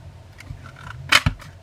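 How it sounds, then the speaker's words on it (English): Small scissors snip a tiny scrap of paper to cut out a snowman's nose, a couple of quick close crisp cuts after a quiet stretch of faint handling noise. "I am going to cut out the nose"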